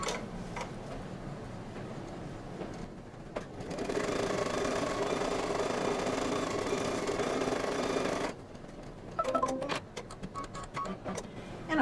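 An embroidery machine stitches a placement outline onto fabric in a hoop, a steady mechanical whirring and ticking that runs loud and continuous for several seconds, then stops and gives way to a few scattered clicks and handling noises.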